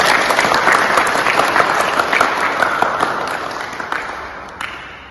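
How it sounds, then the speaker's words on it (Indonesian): A class of students claps in sustained applause, a dense crackle of many hands that holds steady and then slowly tapers off. "Tepuk tangan untuk kalian semua."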